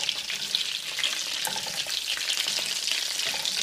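A cheese-filled Holland schnitzel fries in a pan with a steady, close sizzle and fine crackling spatter throughout, with no voices.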